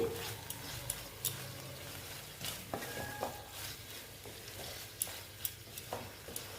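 A banana stem dish is stirred in a frying pan, giving a faint, soft sizzle broken by scattered light scrapes and taps of a spoon against the pan.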